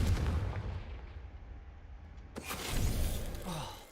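A Confringo spell explosion in the video game Hogwarts Legacy, heard as a deep rumbling boom followed by a sharp crack and a rolling blast.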